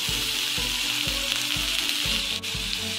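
Sliced capsicum frying in hot oil for a chicken mayonnaise sandwich, a loud steady sizzle with a soft scraping stir repeating about every half second throughout.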